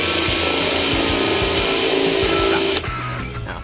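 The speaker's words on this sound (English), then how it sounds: "This is called a countersink bit." Power drill driving a countersink bit into wood during birdhouse building, a steady loud whirring grind held for nearly three seconds before it winds down and stops.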